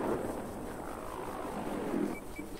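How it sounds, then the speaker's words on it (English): A helicopter in Battlefield 4 whirs in a steady, rising and falling rotor and engine roar, moderately loud and continuous, with no talking. "See if we can wait for this chopper."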